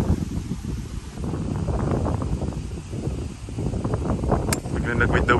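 Strong wind gusts across a golf course, blowing left to right, make a steady broadband rush and buffeting against the microphone, with people talking under and over it throughout.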